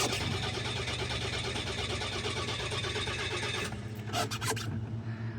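Carbureted car engine cranking and catching on a cold day, a continuous close mechanical churn that shifts abruptly partway through, with a few short sharp noises near the end and no talking.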